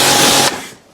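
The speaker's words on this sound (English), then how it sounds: "And I'll use this low pressure water just to see" A low-pressure water spray rinses a motorbike in a steady loud hiss for about half a second, then quickly fades off into quiet dripping.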